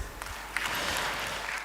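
Steady applause from an audience at a scientific conference on maternal and child reproductive health, starting after a short pause and holding as a fairly quiet, dense patter.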